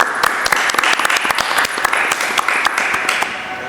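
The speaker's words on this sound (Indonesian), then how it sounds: "Tepuk tangan." An audience at a school student-council event claps in brisk, dense applause, loud and close, with a few voices faintly mixed in.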